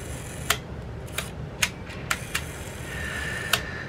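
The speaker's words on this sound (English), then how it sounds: "let's go ahead and try the shutter out now." Mamiya 6 medium-format camera shutter firing repeatedly during a repair, with its self-timer disabled: six crisp, close mechanical clicks spread irregularly over a few seconds against a quiet room hiss.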